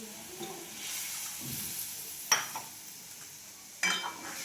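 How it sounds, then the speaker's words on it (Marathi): Masala frying in oil in a home kitchen gives off a steady, soft hissing sizzle after water is added, with two sharper crackling bursts near the middle and end; no one speaks. "थोडंसं आणखी पाणी टाकायचं मसाला."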